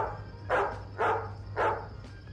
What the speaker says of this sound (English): The birds are chirping, the dogs are barking.